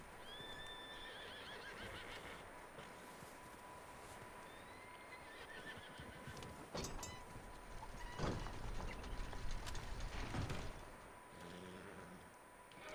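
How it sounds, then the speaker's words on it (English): A horse in a barn neighs and whinnies agitatedly in Red Dead Redemption 2, with repeated loud calls and some hoof clatter, alone without talk and building in intensity toward the end. "Why is that horse going crazy in there"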